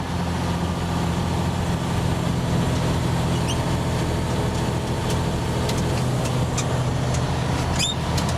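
Semi-truck driving, heard from inside the cab: a constant loud engine and road drone with low rumbling throughout and a few faint squeaks near the end.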